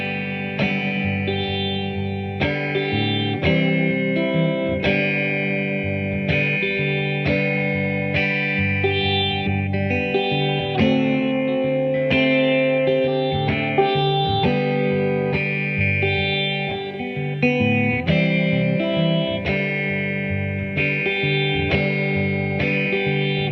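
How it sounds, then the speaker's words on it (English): Finger-picked 1957 Gibson ES-225td electric guitar through an Allston amp with reverb set about a quarter up, playing a continuous clean melodic passage with soft plucked notes and a lingering wash of reverb throughout. "let's turn some reverb on."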